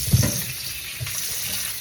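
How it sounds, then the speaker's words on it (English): Tap water runs into a kitchen sink while something is rinsed off during home cooking of rice and peas with fried snapper, a steady close splashing hiss filling the short moment without talk. "Just gonna wash that off."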